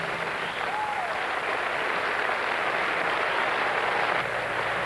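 Steady, dense applause from a crowd, holding at an even level throughout with no voices rising above it.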